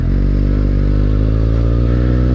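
A motorcycle with a Yoshimura Alpha exhaust, baffle removed, idles loudly and close, its deep, throbbing engine note steady and rumbling with a slight rise in revs throughout.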